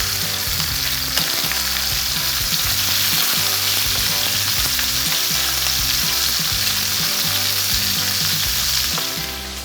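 Meat sears steadily in a hot pan for a summer vegetable grilled curry, a loud, continuous close sizzle with a low hum beneath and no talking.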